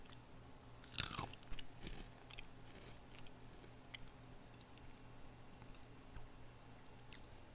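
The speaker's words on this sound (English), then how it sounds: "I will eat a cinnamon toast crunch now." Cinnamon Toast Crunch cereal being eaten up close, with a loud crunchy bite near the start followed by quieter chewing over a steady background hum.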